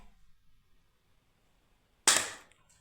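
A single sharp toy gun pop breaks a quiet room, its crack fading over half a second.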